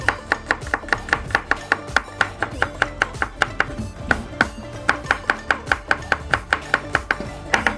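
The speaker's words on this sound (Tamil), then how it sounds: "கொஞ்சம் பூண்டு வந்து நான் இடித்து போடுவேன்" Fresh garlic being crushed by hand for a Tamil murungakkai (drumstick) sambar, a loud, close, steady run of sharp rhythmic thuds repeating several times per second with only brief pauses, and no one talking.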